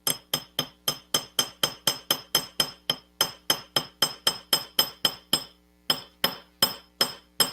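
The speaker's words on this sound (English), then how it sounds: "Just hammer something." A small metal piece for a turquoise inlay cross is struck by a hammer in a steady run of about thirty bright, ringing taps, evenly spaced with a couple of short pauses, close and crisp with no talk.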